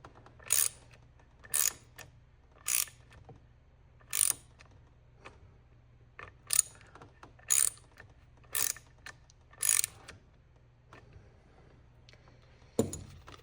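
Sharp ratcheting clicks from screws being tightened on a DeWalt DWE6423 orbital sander, about nine evenly spaced short bursts close up over a quiet background, no talk.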